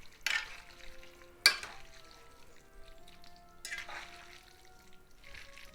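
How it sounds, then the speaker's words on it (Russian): A spoon or fork stirs a boiled pork roll appetizer in a bowl, giving a few sharp scraping, clinking strokes spaced apart, close and fairly quiet, with faint soft rustling between them and no talk. "Размешаем."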